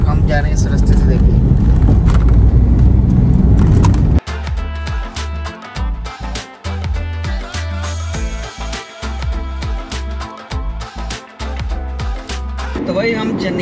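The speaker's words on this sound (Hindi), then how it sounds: "भाई साहब ने गाड़ी ऐसी चलाई है जैसे ऑफ रोडिंग कर रहा हो" A car jolts along a rough, broken road like an off-road track, with engine rumble, thumps and rattles from the bumpy surface, loud and close from inside the vehicle.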